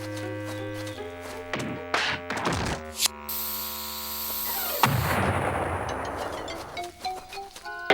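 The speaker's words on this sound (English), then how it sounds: "What a lousy bomb. This rock won't get the better of me." A cartoon bomb blasts against a rock with a loud boom that rolls into a long crumbling rumble, surrounded by orchestral cartoon music.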